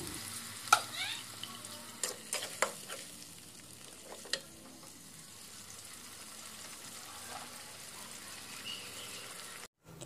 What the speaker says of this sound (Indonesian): Masak bumbunya di api sedang saja ya